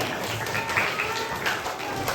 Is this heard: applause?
yes